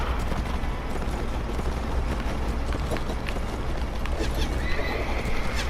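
Horses neigh and hooves clatter amid the dense, busy din of a Mount & Blade: Warband battle against horse archers, with whinnies rising over a constant rumbling roar of combat noise.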